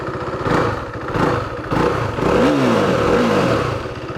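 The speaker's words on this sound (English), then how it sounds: "this has a very auto rickshaw like exhaust note" An older BS3 KTM Duke 390 motorcycle exhaust revs up loudly in several bursts, with a thumping, uneven single-cylinder note like an auto rickshaw, close by.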